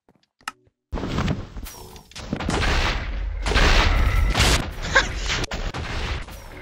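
Pistol gunshots in the Minecraft video game ring out as a run of sharp, loud bursts over several seconds, following a brief quiet click-like start, with no talking.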